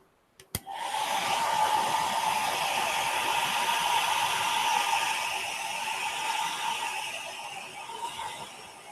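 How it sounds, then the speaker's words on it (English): A hair dryer blows over a watercolor painting, switching on with a click and then running as a steady, loud, close whoosh with a whining motor hum, continuing unchanged without speech. "I just want to put the hairdryer on this one quickly."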